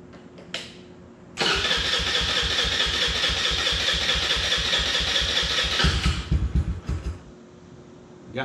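An Eaton Viper 70 four-wheeler engine cranks and fires right up after carburetor cleaning, then runs loud and steady with a rapid even putter before cutting off near the end.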